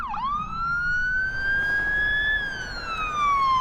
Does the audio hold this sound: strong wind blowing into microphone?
no